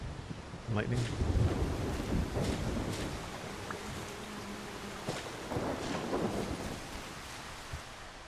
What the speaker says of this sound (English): Yeah, it's good thunder. And some cool lightning effects.